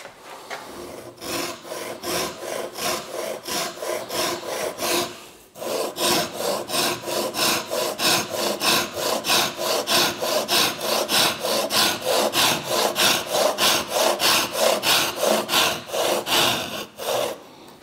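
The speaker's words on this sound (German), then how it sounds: "Dann sägt ihr diese Ecke vorsichtig raus." Hand saw cutting a corner out of wood for a planing cabinet, with steady rhythmic back-and-forth rasping strokes, close and clear, a brief pause midway before the strokes resume.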